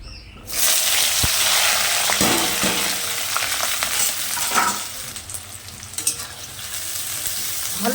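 Onion, garlic and green chili frying in hot oil for a Bengali fish curry, a steady loud sizzle and crackle running throughout with occasional stirring clatters.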